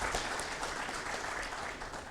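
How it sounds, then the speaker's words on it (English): Steady wash of applause from a large conference audience at a pharma industry session, dense and continuous, heard at some distance with no voices on top. "Let's give a big round of applause."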